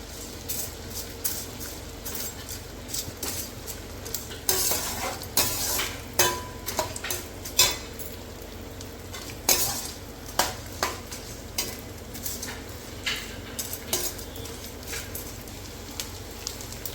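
Edible gum (gond) fries and puffs in ghee in a metal pan, a soft continuous sizzle broken by repeated sharp scrapes and clinks of a spoon stirring, with no voices.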